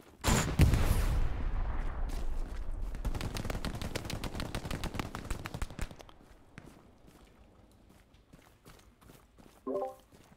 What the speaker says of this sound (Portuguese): É o tanque que tá atirando aí em vocês agora